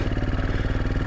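A Royal Enfield Himalayan with a big bore kit and cam idles steadily close by, its single-cylinder engine thumping in a fast, even rhythm with mechanical clatter over a low rumble.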